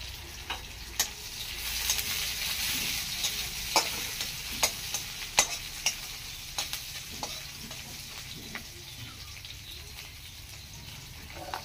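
Garlic and green chilies fry in a pan with a steady, hissing sizzle, broken by sharp scraping clicks as a utensil stirs them at irregular intervals.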